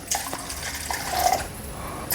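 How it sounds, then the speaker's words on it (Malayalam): Water runs and splashes steadily into a pan for cooking semolina upma, a soft continuous pour with a faint trickling tone, close by and without any talking. "വെള്ളം ഒഴിച്ചു കൊടുക്കാം ഉപ്പുമാവിന് റവയ്ക്ക് വേവാൻ ആവശ്യമായിട്ടുള്ള വെള്ളം"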